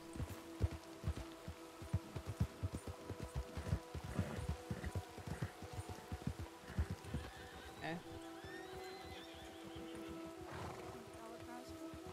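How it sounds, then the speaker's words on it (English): A horse in the video game Red Dead Redemption whinnies amid repeated hoof clip-clops, set against a layer of steady game music tones, with voices talking over parts of it. "Horses are so great in this game."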